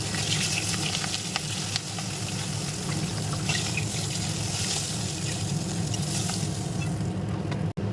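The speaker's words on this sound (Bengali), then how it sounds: "সব মাছগুলি ভেজে নিচ্ছি তোলার আগে একটুখানি আস্তা বাড়িয়ে তারপরে ভেজে নিচ্ছি" Pieces of katla fish, head included, fry in hot oil in a steady, loud sizzle that fills the whole stretch, with faint stirring and no talk.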